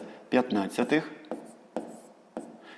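A voice speaks briefly during a sixth-grade math lesson, then pen strokes write out an equation, three crisp separate taps spaced apart in a quiet room.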